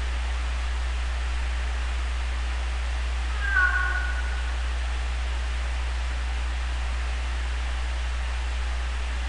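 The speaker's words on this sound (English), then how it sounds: "Oh, there's the cat over there." In the video game Calling, a cat gives a single short meow partway through, faint and somewhat distant over a constant hiss of background noise.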